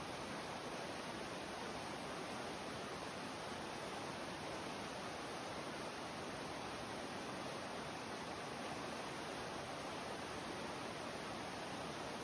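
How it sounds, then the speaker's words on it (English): Rushing whitewater of the Nolechucky River, a big rafting river in the northeast Tennessee and North Carolina mountains, heard as a constant loud broadband roar that stays steady throughout, with no voices. "Crossing the Nolechucky River."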